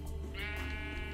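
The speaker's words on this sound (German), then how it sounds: "Hey, da ist ein Schaf." A sheep in the video game Minecraft gives a single bleat, close and clear over a low steady background hum.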